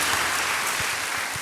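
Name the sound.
church congregation applause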